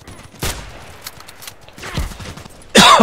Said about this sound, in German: Oh, das war ein guter Schuss.